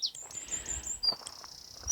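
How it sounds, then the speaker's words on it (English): A wild songbird on a nature walk gives thin, high whistled notes, a short run of sustained tones followed by a brief chirp, fairly close and clear over quiet outdoor ambience. "I don't know what that was, but it's probably a tit."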